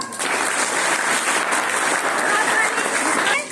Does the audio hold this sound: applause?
yes